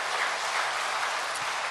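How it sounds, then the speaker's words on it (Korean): A church congregation at a revival meeting applauds together, a dense, even wash of clapping that holds steady and loud throughout the short stretch. "하나님께 영광의 큰 박수 하겠습니다."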